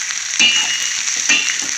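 Salt and chilli powder are stirred into hot frying oil, a steady close sizzle with two brief scraping strokes of the spoon cutting through.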